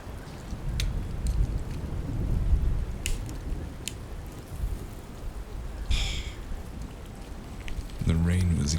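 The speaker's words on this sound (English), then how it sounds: "The rain was getting heavier" Heavy rain pours down over a city at night in a dense, steady hiss with occasional sharper splashes. A voice briefly speaks at the very end.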